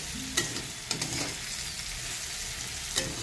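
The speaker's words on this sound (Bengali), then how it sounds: "আমার আলু উস্তাটা কিন্তু ভাজা হয়ে গেছে" Potato and bitter gourd frying in a pan, a steady soft sizzle with a few sharp stirring scrapes near the start, middle and end.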